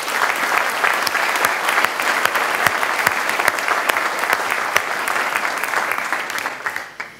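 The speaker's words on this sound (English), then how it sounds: "I think we ought her an applause again" An audience at the TU/e Academic Awards 2019 gives sustained applause, a dense crowd of clapping hands with sharp individual claps standing out, fading toward the end.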